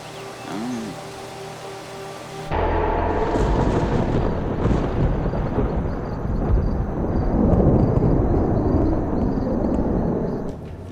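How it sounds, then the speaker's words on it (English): Thunderstorm in a thriller film: a steady wash of heavy rain and low rumbling thunder runs loud and continuous from a few seconds in, swelling toward the end, after a quieter opening with music. "Of course there would be a storm."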